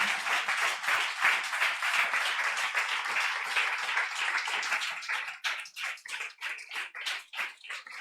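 A church congregation applauding during a Sunday worship service, dense sustained clapping that gradually breaks into more distinct, rhythmic claps toward the end, with no talking.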